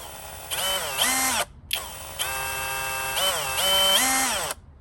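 A cordless variable-speed Sundpey drill driver whirs in bursts, its motor pitch rising and falling as it speeds up and slows, with a short pause between runs.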